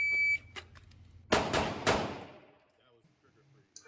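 Pistol shots crack during timed shooting practice, one near the start and two more in quick succession later. Each sharp report is followed by a decaying echo, with electronic timer beeps around them.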